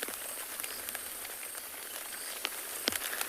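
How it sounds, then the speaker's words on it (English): Rain picking up and pattering on a roof during a morning safari in South Africa: a dense, even hiss with scattered louder drips and a faint bird call near the end, with no talking. "Oh, the rain is definitely picking up again."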